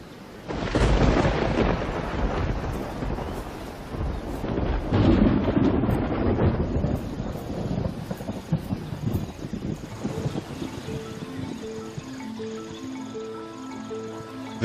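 A thunderstorm rolls over Kruger at the start of the summer rains, with loud rumbling thunder and gusts of wind over a steady hiss of rain, the rumbles easing into softer rainfall toward the end.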